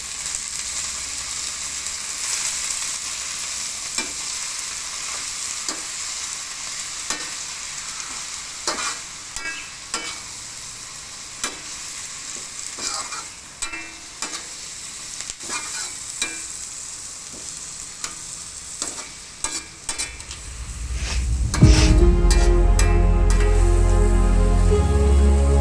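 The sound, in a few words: stirring and frying sweet leaves with fish curry in pan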